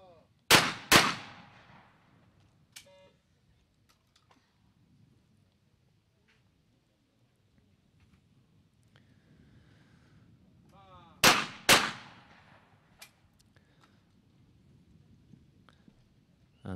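Shotgun pairs fired at a men's double trap clay shooting championship, two sharp double blasts about ten seconds apart, each pair in quick succession with echoing tails, with faint crowd murmur between them.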